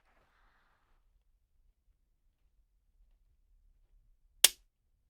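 A single sharp metallic click from the trigger sear of a Savage .308 pistol releasing during trigger repair, close and isolated near the end after a stretch of near silence.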